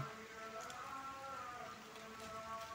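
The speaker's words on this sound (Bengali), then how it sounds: "দেখেন বৃষ্টি পড়তেছে।" Rain falling steadily on a farm where geese and goats are being herded back in, a continuous soft patter with a faint tonal hum underneath and no talk.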